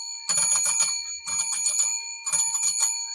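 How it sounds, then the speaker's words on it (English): A double bell rings loudly and up close during a live wrestling watch-along stream, sounding in three rapid rattling bursts separated by short pauses. "We have a double bell system here."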